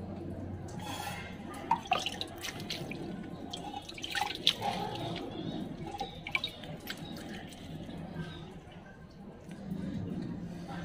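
Water drips and trickles from freshly watered potted plants indoors, a steady patter of close drops with occasional splashes, with some faint background talk.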